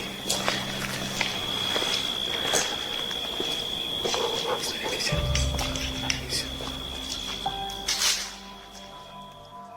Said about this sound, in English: they heard what sounded like footsteps from a distance